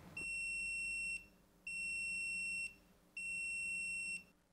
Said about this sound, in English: you'll hear an audible alarm telling you you're out of beers and you need to fill it up